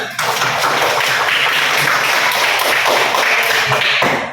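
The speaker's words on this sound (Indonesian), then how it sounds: "beri aplaus dulu sama-sama" A room of schoolchildren in a primary science lesson claps together, a dense, loud burst of applause lasting several seconds before fading out.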